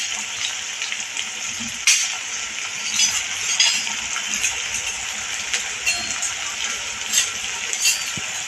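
Onion sautéing in a pan for a spicy roasted brinjal bharit gives a steady, close sizzle and crackle, with occasional clinks of a spatula against the pan throughout.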